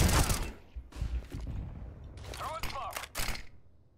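Rapid bursts of gunfire in Counter-Strike on the Dust2 map, several sharp cracks separated by brief gaps, with a player talking over the shots.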